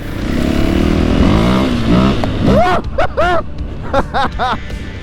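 A Husqvarna 501 FE dirt bike engine idles with a rough drone, then is revved in sharp repeated throttle blips that rise and fall, loud and close.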